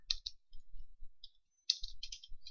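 Code typed on a computer keyboard: two short bursts of light, quick key clicks separated by a pause, close and fairly quiet with no talking.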